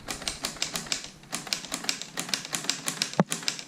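A LEGO-built typewriter clacks rapidly and steadily as its carriage advances across, a close series of sharp mechanical taps ending in one louder knock, with no voices.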